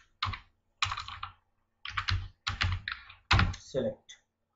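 A computer keyboard is typed on in short bursts of rapid clicking, with brief pauses between the runs, close and fairly soft.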